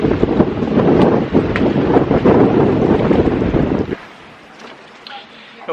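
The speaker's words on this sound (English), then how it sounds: "right now the wind is quite strong" Strong wind buffets a sailboat underway at sea, roaring loudly and close into the microphone for about four seconds, then dropping to a much quieter hiss.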